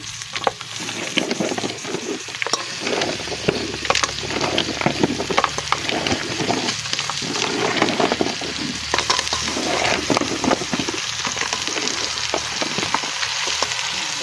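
Lokan clams sauté with lemongrass in a hot pan, a steady close crackling sizzle with intermittent stirring and clattering shells, no voices.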